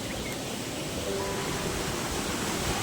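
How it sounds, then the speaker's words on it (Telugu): Fast water rushes loudly and steadily at a waterfall near Veeranamala Tanda, Kuppam, a dense unbroken roar filling the whole moment. "నీళ్ళు అయితే చాలా వేగంగా ప్రయోగిస్తుంది ఇక్కడంతా."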